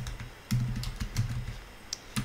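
Keys clatter on a computer keyboard in a short burst of typing, a quick uneven run of close, crisp taps with small pauses between them and no voices.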